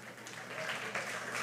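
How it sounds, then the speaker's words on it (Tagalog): A church congregation claps in applause during a sermon, a moderate, fairly even patter of many hands heard at a middle distance in a reverberant hall. "Yehey, pumalakpak ang hindi tulog."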